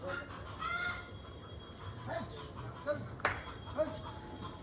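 Chickens cluck in short, scattered bursts nearby, with a few sharper squawks, amid faint background noise and distant voices.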